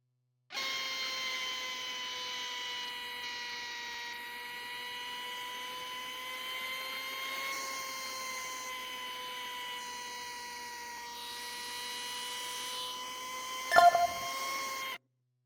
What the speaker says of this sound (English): Grab the bone saw to resect the tibial plateau.